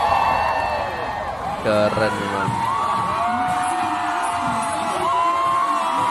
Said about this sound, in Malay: ramai penonton yang menjerit kerana teruja